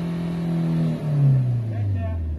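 Car engine held at full throttle during an exhaust emission test, a loud steady high-revving drone that dips briefly and then sinks gradually in pitch as the revs fall, with talk alongside.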